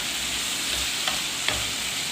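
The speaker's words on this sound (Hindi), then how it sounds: "मसालों के साथ इसकी थोड़ी सी भुनाई करेंगे तकरीबन 5 मिनट के लिए।" Liver frying with spices on a hot tawa makes a continuous, even sizzle with two brief scraping stirs, close and moderately loud, no talking.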